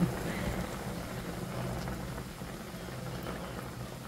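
Boiling water is poured into a pot of chicken yakhni, making a soft, continuous hiss and gurgle at low level with no clear talking.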